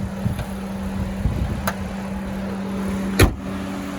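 A 2021 Honda Odyssey Touring minivan idles with a low, smooth, steady hum, and a couple of sharp clicks or thumps cut in along the way.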